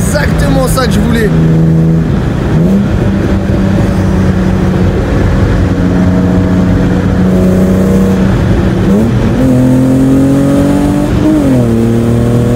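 A BMW E30 six-cylinder fitted with a Supersprint exhaust revs loudly and repeatedly, its pitch climbing and falling in steady sweeps as the engine is blipped and held, close up and continuous for the whole stretch.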